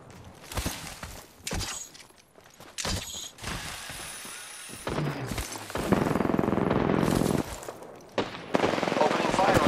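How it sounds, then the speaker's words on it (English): Gunfire in the Apex Legends video game, bursts of automatic weapon fire with mechanical clicks and reload rattles, getting louder and denser toward the end, mixed with game effects. "Opening fire on the enemy"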